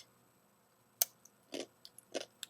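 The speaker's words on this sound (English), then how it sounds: "I can hear it crunch when I'm chewing it" A tortilla or corn chip gets chewed up close, with a sharp first bite followed by several short, irregular crunches, all quiet and with no voices.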